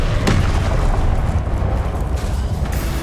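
A Confringo spell explosion in Hogwarts Legacy booms loud and close, a deep rumbling blast that fills the moment with a sharp crack near the start.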